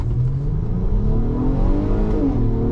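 A 2025 Acura MDX with SH-AWD accelerates hard in sport mode from a stop, its 3.5 liter V6 engine climbing in pitch under full throttle with a loud, steady rising drone heard from the cabin.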